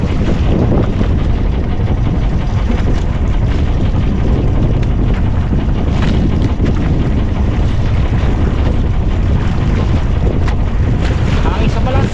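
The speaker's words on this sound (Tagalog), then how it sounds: "Ang lakas ng hangin." Strong wind over sand roars and buffets the microphone nonstop, a loud, dense rush with water and waves churning underneath.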